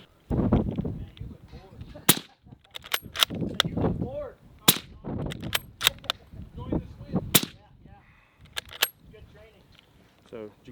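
Several sharp, suppressed shots from a Rigby Highland Stalker rifle in .275 Rigby, each a brief crack spaced a second or more apart, with someone talking between them.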